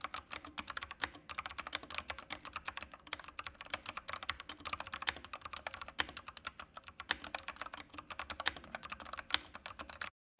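Fast, continuous clacking keystrokes on a Yunmo K87 mechanical keyboard fitted with K yellow switches, close and crisp, with no voices.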